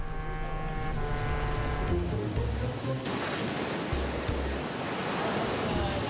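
Rough ocean waves crash against rocks on the Portuguese coast, a loud, continuous roar of surf and churning water with no pause.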